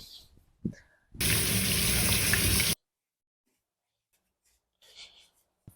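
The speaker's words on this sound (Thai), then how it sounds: "ต้องทำการล้างมือให้มันสะอาดน้ำเด้อครับ" Hands are washed under a running tap before a meal, a steady loud gush of water lasting about a second and a half that stops abruptly, with brief talk and rustling before and after.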